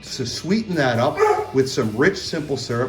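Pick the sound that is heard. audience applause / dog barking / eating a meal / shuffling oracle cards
dog barking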